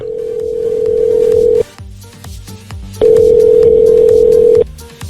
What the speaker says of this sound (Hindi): काफी घंटी बजने के बाद आखिरकार किसी ने फोन उठाया